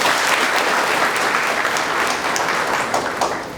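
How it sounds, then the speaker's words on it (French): Dense, sustained applause from an audience at a digital training centre event, loud and even throughout and tapering slightly at the close. "Applaudissez pour ces jeunes-là."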